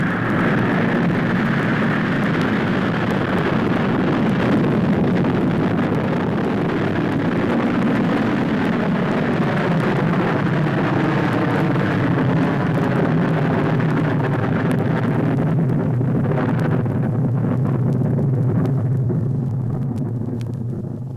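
A V-2 rocket motor firing at launch at White Sands Proving Grounds, New Mexico: a loud, continuous roaring rumble with heavy low-end thunder and broad hiss that holds steady for about twenty seconds before slowly fading.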